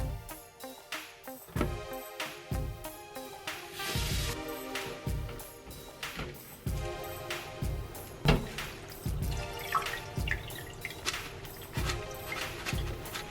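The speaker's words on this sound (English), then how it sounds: "Wash kale." Kale is washed under running tap water, with uneven splashing, clattering and knocking of leaves and hands in a sink, busy and close throughout with no voices.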